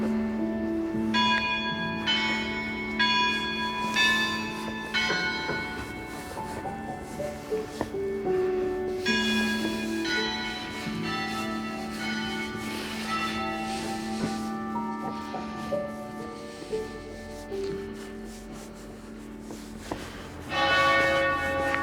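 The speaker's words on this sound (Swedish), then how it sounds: "Nu kommer den stora kyrkklockan." A large church bell at a medieval cathedral in France rings out in repeated resonant strikes, each tone hanging and overlapping the next, heard at a moderate distance over quiet surroundings.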